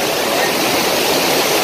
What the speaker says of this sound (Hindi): आपको ऊपर जाके फिर से दिखाएंगे कि कैसा है वो वाटरफॉल